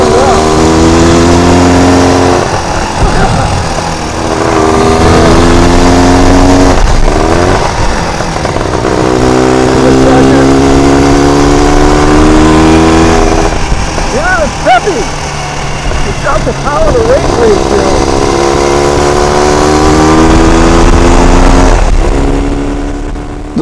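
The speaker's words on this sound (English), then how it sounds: "The Scott Flying Squirrel is a bike I've always wanted to try" A 1928 Scott Flying Squirrel two-stroke motorcycle is ridden in first gear around 25 mph, its engine loud and close with rising and falling revs through gear changes and throttle blips, a rider's voice speaking at times over it.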